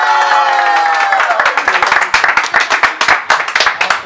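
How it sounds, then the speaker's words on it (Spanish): At a birthday celebration with a youth mariachi group, a held instrumental chord fades as a crowd breaks into loud, close clapping with some cheering, the claps becoming crisp and rhythmic toward the end. "pido un aplauso para él"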